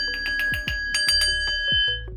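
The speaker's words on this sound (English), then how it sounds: "Ring that fucking bell, boy." A bell rings in a quick burst of bright metallic dings, about a dozen strikes in fast irregular succession with sustained ringing tones overlapping, close and loud with no talking over it.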